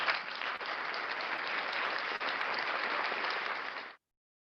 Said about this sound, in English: Where's my applause button?